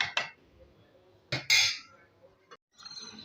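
Metal cutlery clinks and scrapes against a pot of egusi soup during stirring, followed by a lid clattering down, giving a few sharp, close, fairly quiet knocks separated by short pauses.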